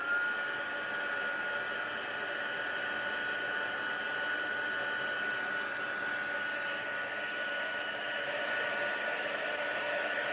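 A heat tool blows over embossing powder on a stamped card to set it, giving a steady, fairly loud whooshing hum that runs unbroken from start to finish with no talking.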